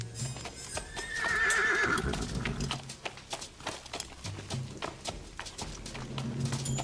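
A horse gives a loud, near whinny with a rising then falling squeal, followed by steady hoof clops and scuffing on the ground.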